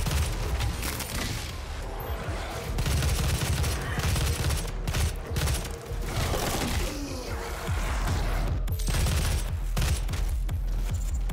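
Rapid gunfire bursts from the video game Doom, dense repeated shots and booms over game music, loud and continuous with little pause.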